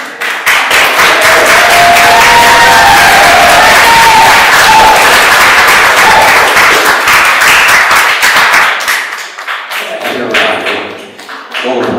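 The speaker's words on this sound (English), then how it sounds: "applaud everybody again at the end" Loud, dense audience applause at a term-end gathering, sustained clapping that fades toward the end with some voices mixed in.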